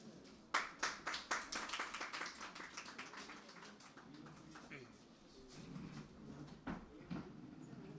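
An audience at a literary gathering claps to welcome the chairman, a quick burst of sharp hand claps that thins out within a couple of seconds before a quiet voice and softer sounds continue.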